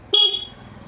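A modified Hero Honda CD100ss motorcycle sounds its horn once: a single short, bright electric honk, loud and close, that fades quickly into quiet background noise.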